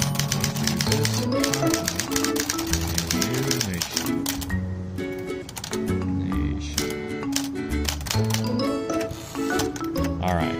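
A Sears Tower Constellation manual typewriter clacks in rapid, close keystrokes with a carriage pause midway, loud and busy, with someone speaking at times.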